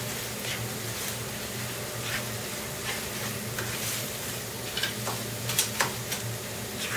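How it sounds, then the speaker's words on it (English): Masala spices frying and sizzling in a pan, with a steady crackling hiss and occasional stirring scrapes and taps close by, no talking. "Now let the masala cook for 1 to 2 minutes."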